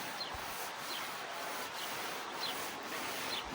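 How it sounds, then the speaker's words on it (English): Polishing compound paste rubbed onto a car headlight with a cloth, a steady close scrubbing swish with repeated back-and-forth strokes, continuous and fairly quiet with no voices. "we're just going to rub it all in like that"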